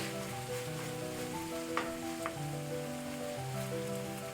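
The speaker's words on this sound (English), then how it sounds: "add in the ground beef" Ground beef sizzling and browning in a pan, a steady soft hiss of frying with a couple of brief clinks over a faint background hum.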